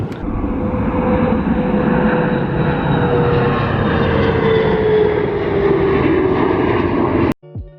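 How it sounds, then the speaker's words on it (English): Airplane engines roar loudly and steadily from an airport overlook as an aircraft passes, the drone holding strong with a slowly falling pitch before it cuts off abruptly at the end. "We're watching the airplanes."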